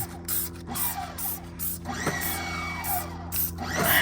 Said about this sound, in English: So just spray it on.